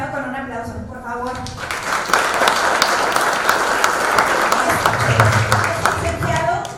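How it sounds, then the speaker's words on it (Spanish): An audience at a CFE workplace safety and hygiene congress bursts into applause to welcome a speaker. The clapping swells after a short stretch of voices and holds steady and dense, with talk returning near the end. "Ayúdenme a recibir al licenciado con un aplauso, por favor."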